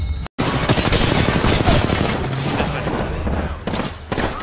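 Rapid bursts of gunfire from Apex Legends crackle densely and loudly, overlapping shots filling the scene in a sustained barrage after a brief silent gap.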